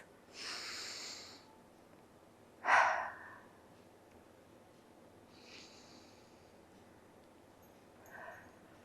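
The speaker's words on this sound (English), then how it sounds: "now let's take 2 deep breaths" Slow, deep breaths during a face yoga exercise come as four separate airy bursts, the second a sharp, forceful exhale, set against a quiet background.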